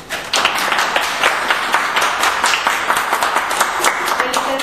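At a symposium, a seated audience claps for a guest of honor in a steady, dense round of applause that continues throughout.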